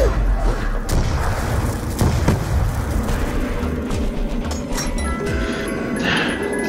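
A booming grenade blast in Call of Duty Black Ops 2 Zombies, one heavy thump followed by crashing game noise and continuous in-game sound.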